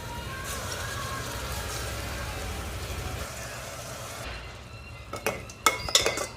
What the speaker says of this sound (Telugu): మొత్తం మిక్స్ అయ్యేలా ఒకసారి కలుపుకుందామండి